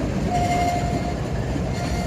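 A CSX freight train crawls slowly out of a siding with a steady, close rumble of wheels and cars and a thin, sustained squeal riding on top, continuous and with no voices.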